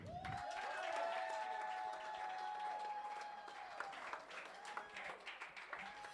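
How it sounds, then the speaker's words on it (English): An audience applauds a winning team, TaxPal Zimbabwe, at an Eight2Five Innovation Hub awards event, with steady clapping throughout that thins slightly toward the end while a ringing tone hangs over it. "Let's clap for him all the way up here."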